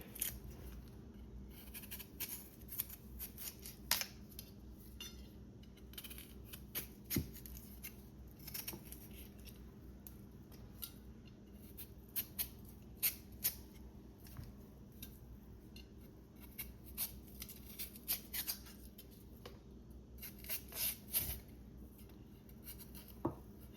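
Yellow yam being peeled by hand in a home kitchen, heard as faint, irregular scraping and small clicks from a knife, with occasional louder taps spread across a long, quiet stretch.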